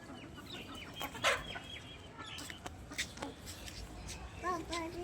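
Chickens and roosters freed in the morning on a poultry farm cluck in short, scattered calls, with a brief run of stacked clucks near the end over steady outdoor background noise and some human voice.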